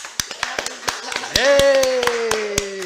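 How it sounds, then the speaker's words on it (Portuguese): Scattered, uneven handclaps from a small group in a podcast studio welcoming a guest interview, with a voice speaking or singing over the second half. "Por favor, uma salva de palmas para Islene Cristina."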